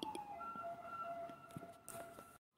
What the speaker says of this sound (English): Oh, you could hear an ambulance.